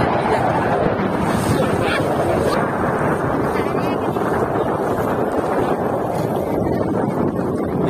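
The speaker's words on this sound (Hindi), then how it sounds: "नदी के बीचों बीच बहुत तेज हवा बह रहा है" Strong wind gusts buffet the microphone in the middle of a river, with a steady loud roar of wind and water throughout and no clear words over it.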